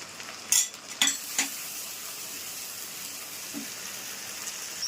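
Ground cumin, chili and coriander fry in a pan with a soft, steady sizzle while a spoon stirs them, making a few sharp scraping clicks early on.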